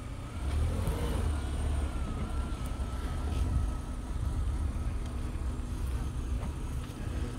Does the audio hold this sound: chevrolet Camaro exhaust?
yes